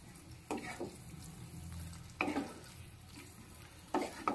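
Spice paste and potatoes being stirred and fried for an egg omelette curry, giving a steady low sizzle broken by a few sharp scraping strokes of the spoon against the pan, close and with no talk.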